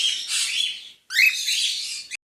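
Parrot calling, two shrill screechy squawks separated by a short gap, loud and close with no speech.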